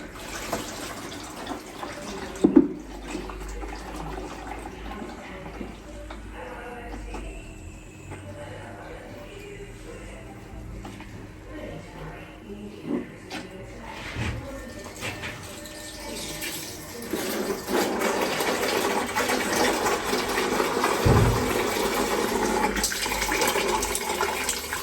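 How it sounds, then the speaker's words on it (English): Gearbox fluid drains from a Mini's 7-speed dual-clutch transmission in a steady trickling stream, mixed with a few knocks and clanks, with the pour growing stronger and fuller toward the end. "So leave it to drain out until the stream isn't constant."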